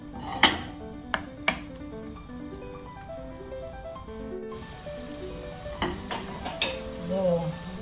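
Onion sautéing in hot oil, a steady sizzle and hiss with a few sharp utensil clinks and stirring scrapes, close by.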